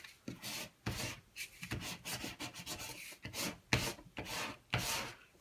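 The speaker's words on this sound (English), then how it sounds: "Squeegee it down." A squeegee is pressed and rubbed over vinyl applied to tile, making faint, close, repeated scraping strokes in an uneven rhythm.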